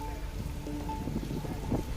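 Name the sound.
heavy rain during Cyclone Tauktae in Gujarat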